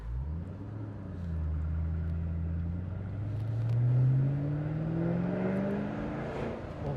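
Mustang Shelby GT500 KR V8 engine pulling steadily while driving, a deep, rich exhaust note rising in pitch as it accelerates through a gear, continuous and close with no talking.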